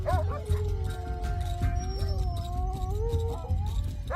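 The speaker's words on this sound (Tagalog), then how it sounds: "muling marinig ang pag-alulong ng aso. Kakaiba ang alulong na iyon. Parang hindi ordinaryong aso." A dog howls in long, wavering, mournful tones that rise and fall across the whole stretch, fairly close and clear over a low background rumble.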